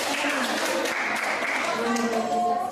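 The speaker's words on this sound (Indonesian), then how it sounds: "Tepuk tangan untuk kelompok 1." Classmates in a Year 12 Indonesian language lesson applaud a student group after its presentation, a short dense burst of clapping mixed with voices throughout.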